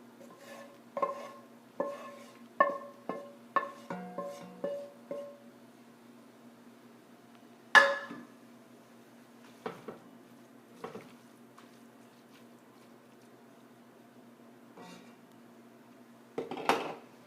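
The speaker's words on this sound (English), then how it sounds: "And now I'm going to add my other skillet here into this pot." A skillet of French onion soup ingredients scraped and emptied into a pot, a run of quick metallic clinks and knocks of utensil on pan, then scattered louder scrapes and clanks with quiet pauses between, close and alone.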